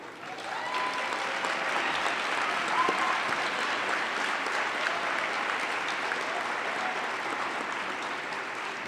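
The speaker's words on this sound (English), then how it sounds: "let's give one more round of applause for the Jefferson High Gospel Choir" Sustained, dense applause from a large audience for a high school gospel choir at a civic event, loud and continuous for several seconds with no voices over it.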